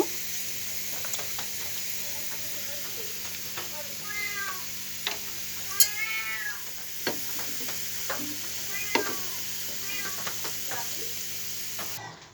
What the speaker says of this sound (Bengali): সুন্দর করে নাড়াচাড়া করে ভেজে নিচ্ছি দেখুন রসুনটা খুব সুন্দরভাবে ভাজা হয়ে গেছে